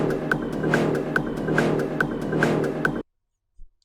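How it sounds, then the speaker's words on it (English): A synthesized swoosh from a track loops as a steady, loud textured wash with rhythmic pulses about every half second. It cuts off abruptly and is followed by a brief faint low thump. "We're mainly going to be focusing on this swoosh thing that we have in here."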